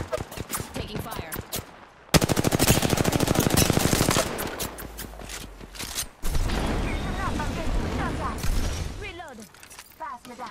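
Automatic weapon fire in the battle-royale game Apex Legends, ranked season 14, with rapid bursts loud and close for several seconds, broken by pauses and overlaid with the ability and impact sounds of a match.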